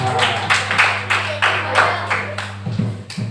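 A classroom group claps for group 4, a short round of rhythmic, evenly spaced clapping at moderate volume over a steady low hum, fading near the end.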